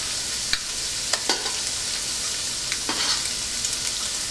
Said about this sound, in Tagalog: tatanggalin muna natin itong hipon dito sa ating cooking pot